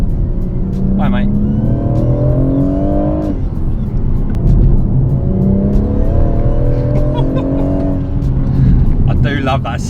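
BMW M140i engine under hard driving, a loud close cabin drone rising through the gears in two long pulls with gearshift dips between, voices talking over it.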